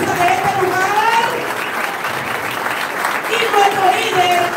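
Church congregation applauding while standing at a campaign office opening, dense sustained clapping with cheering voices and shouts riding over it.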